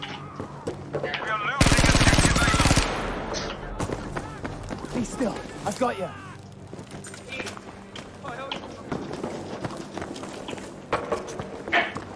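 Loud shotgun blasts in a multiplayer shooter video game crack out in a burst near the start, followed by scattered lighter gunfire, footsteps and game effects, with excited player voices talking throughout.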